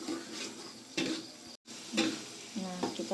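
Spice paste and sliced tomatoes being sautéed in a pan, a close sizzle mixed with the scrape and clatter of stirring utensils against the pan, with a short break in the middle.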